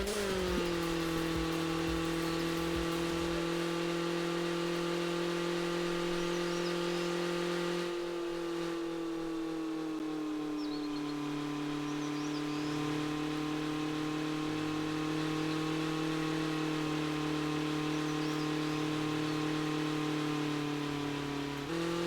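A turbocharged car engine holds a steady, droning hum, its pitch dipping slightly and shifting as it revs, with no voices.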